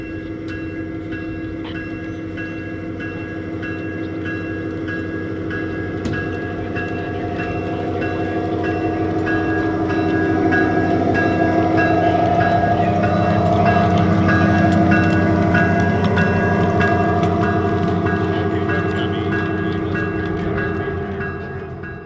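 Ridable model train locomotive running on track at the Train Mountain operations meet, a loud continuous rumble and hum that swells in the middle, with faint rail clatter and no talking.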